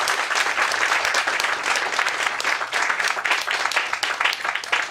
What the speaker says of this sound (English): One more powerful clap.